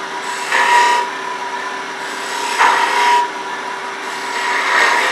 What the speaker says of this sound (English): I'm going to switch to a skew. And first I'm going to make a marking cut,